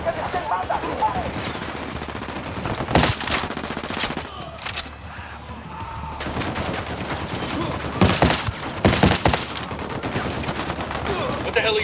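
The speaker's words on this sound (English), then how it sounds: "Opening fire." Sustained automatic gunfire in Ghost Recon Wildlands roars through the whole stretch, with dense rattling bursts and heavier reports near the middle and end over a busy game soundscape.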